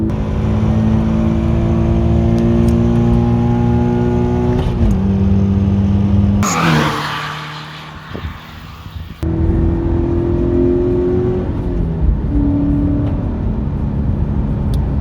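A naturally aspirated Toyota GT-86 engine revs hard through acceleration, its pitch climbing steadily across the gears with a brief drop in tone at a shift before pulling up again, loud and close without speech.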